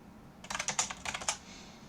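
Typing Linux commands on a computer keyboard: a quick burst of about a dozen crisp, close keystrokes that trails off into a quiet room.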